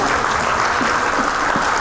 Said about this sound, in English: A big round of applause to all these women out here.